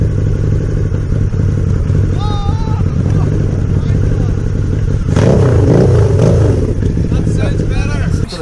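A Harley-Davidson V-Rod motorcycle engine runs loud and raw with its exhaust fallen off, a steady rumbling drone that swells into a harder rev near the middle, with people talking over it and faint bird chirps behind.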